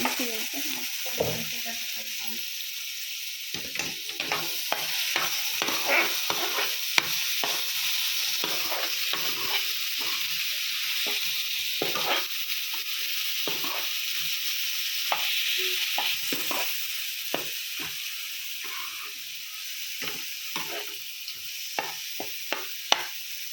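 Coconut chutney seasoning is stirred and mixed in a hot pan: continuous soft sizzle with many rapid spoon scrapes and clicks, steady and close for a long stretch with no talking.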